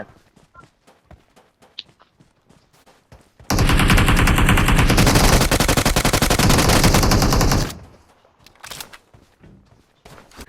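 Sustained automatic gunfire in PUBG Mobile, a dense, loud burst of rapid shots lasting about four seconds, with quieter game sounds before and after.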